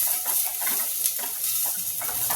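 Steady crackling sizzle of garlic frying in a hot pan over high heat, with soft stirring scrapes, close and continuous.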